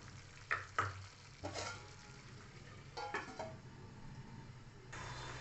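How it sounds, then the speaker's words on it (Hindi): Masala for kadhai paneer fries in a kadhai, with a few spoon scrapes and clinks against the pan over a soft continuous sizzle, close and quiet, no voices. "थोड़ी देर और मसालों को पकाऊंगी।"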